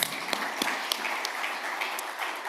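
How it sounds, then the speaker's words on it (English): Scattered hands clap at a closing ceremony, with a few distinct, separate claps standing out over a thin, moderately faint patter of applause. "A round of applause."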